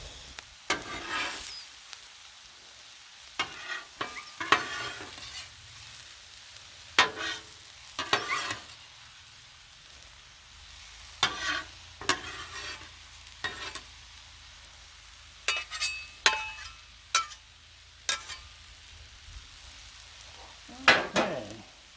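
Peppers and onions cooking on a griddle for cheese steaks make a quiet low sizzle, broken by repeated sharp scrapes and clacks of a metal spatula at irregular intervals.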